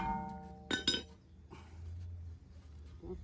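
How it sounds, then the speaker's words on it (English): A rusted brake rotor on a Honda Accord is smacked with big pliers, giving a couple of sharp metallic clinks and a ringing clank nearby, then quieter knocks. "I smacked the rotor with the freaking big old"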